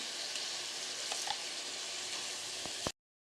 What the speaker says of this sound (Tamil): நம்ம அரைச்ச எல்லாத்தையுமே நம்ம இதில் சேர்த்து நல்லா வதங்கணுங்க